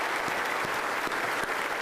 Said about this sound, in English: Let's give President Law a round of applause.